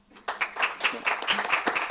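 Applause after a university lecture on medical image analysis starts abruptly from near silence, a smaller group clapping in a fairly quick rhythm with distinct individual claps standing out, moderate in level.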